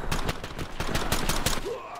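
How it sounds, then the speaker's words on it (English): A volley of gunfire in the tactical shooter Ready or Not, with a dozen or so sharp overlapping shots in quick irregular bursts, loud and close, with no voices. "Guns blazing."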